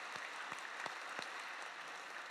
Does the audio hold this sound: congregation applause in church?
yes